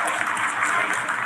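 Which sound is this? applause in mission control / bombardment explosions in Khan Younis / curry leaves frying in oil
applause in mission control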